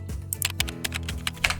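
Fingers type on a computer keyboard in quick irregular bursts of crisp clicks, close and clear with no voices.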